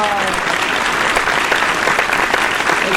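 Audience at a grand youth mushaira, a Urdu poetry recital at Jashn-e-Urdu in New Delhi, breaks into loud, dense, continuous applause that fills the whole stretch at an even level.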